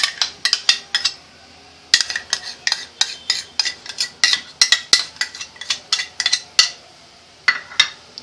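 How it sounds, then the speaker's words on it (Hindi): Soy sauce, ketchup and Schezwan sauce being stirred together in a pan for egg fried rice, heard as a steady run of close, sharp metal spoon clinks and scrapes against the pan, with no talking. "अच्छे से मिक्स करेंगे हम।"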